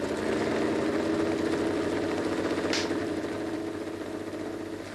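A Porsche Targa engine idling in a steady, continuous low rumble, close and even throughout with no voices.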